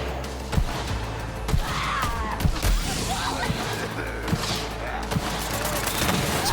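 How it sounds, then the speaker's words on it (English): Repeated explosions and gunfire in the shooter video game Borderlands 3, with sharp blasts every second or so over a dense, busy game soundscape, and a voice briefly audible. "Explosions!"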